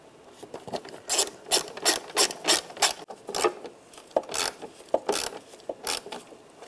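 A ratchet tightens bumper nuts on a 1996–2002 Toyota 4Runner, a rapid series of close, crisp clicking bursts in an uneven rhythm of short strokes with brief pauses.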